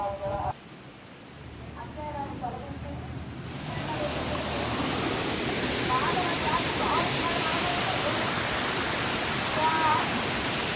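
Rampachodavaram waterfall in monsoon season, a steady broadband rush that swells louder after the first few seconds as the falls come closer, with faint voices talking underneath.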